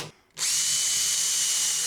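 A power drill drives 1.5-inch screws into wood on a table saw build, starting abruptly after a brief quiet moment and then whining loud and steady at high speed, close up with no talking.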